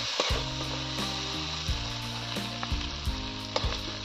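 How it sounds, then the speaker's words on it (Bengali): Masala frying with stone-ground ginger paste for a small crab curry sizzles loudly and continuously, while a spatula scrapes and knocks against the pan in a repeated rhythm. "আদা বাটা দিয়ে আমি এইবার এটাকে কষাচ্ছি।"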